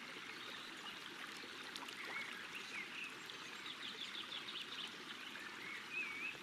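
A river stream flows steadily beside a hill, its soft, continuous rushing filling the scene while several small birds chirp and trill faintly over it. No voices.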